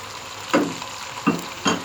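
Chopped tomatoes drop into chicken karhai frying in a pan, giving three short bursts of sizzling and stirring over a low, steady background hiss.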